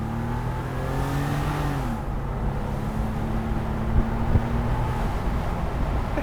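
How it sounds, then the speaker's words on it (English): An air-cooled Porsche 993 Cabriolet engine hums and rises in pitch as it accelerates, then shifts and climbs again, steady and fairly close. "I do like the sound of the engine."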